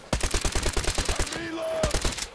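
Rapid automatic gunfire rattles in the shooter game Metro Exodus, a tight burst of evenly spaced shots followed by a short pause and a few more rounds, with brief tonal game sounds in the gap.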